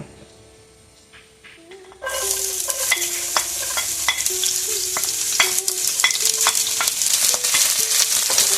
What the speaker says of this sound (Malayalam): എണ്ണ ചൂടാകുമ്പോൾ നമുക്ക് നമ്മൾ അരിഞ്ഞു വെച്ചിരിക്കുന്ന ചുവന്നുള്ളി,